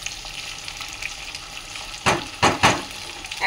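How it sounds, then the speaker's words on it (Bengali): Green chillies being lightly stirred in a frying pan for a yogurt chilli pickle: a steady sizzle of hot oil, then three distinct scraping stir strokes near the end, close and moderately loud with no voices. "এখন এই যে লঙ্কাগুলো হালকা নাড়াচাড়া করছি"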